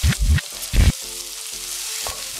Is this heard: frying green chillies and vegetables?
yes